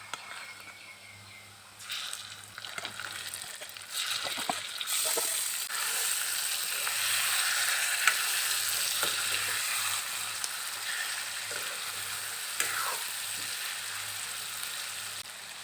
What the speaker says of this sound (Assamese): এতিয়া পিঁয়াজখিনি ৰঙচুৱা হোৱালৈকে ভাজি ল'ম।